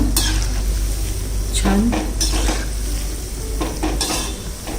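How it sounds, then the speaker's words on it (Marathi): Shakarpare dough pieces fry and get stirred in hot oil, a steady sizzle under scraping spoon strokes and light metallic clinks, with a brief spoken word near the middle. "सगळ्या बाजूने त्या तळून घ्यायचे"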